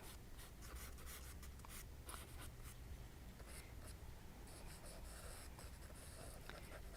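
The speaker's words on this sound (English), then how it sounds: "there's sort of a kind of a meditative feeling when you're drawing with charcoal, because it has a very tactile feel against the paper" Charcoal scratching and rubbing across watercolor paper in steady, close strokes, with continuous gritty friction and no talking.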